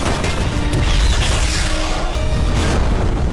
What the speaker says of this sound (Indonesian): Misil pun meledak dan menghancurkan helikopter.